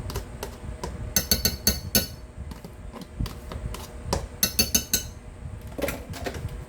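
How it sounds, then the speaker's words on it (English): A utensil stirs a wet mixture into dry ingredients for pumpkin brownies, giving repeated clinks and scrapes against a bowl in uneven bursts, close and fairly clear. "we're going to give that a stir"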